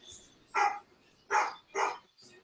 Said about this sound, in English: Your dog's barking at its target.